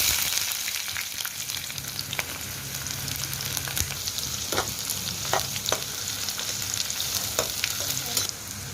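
Onions frying in hot oil in a wok, a continuous close sizzle with scattered scraping stir clicks, no one talking.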